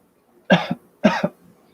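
Two distinct coughs, close and fairly loud, separated by a short pause, with no talking.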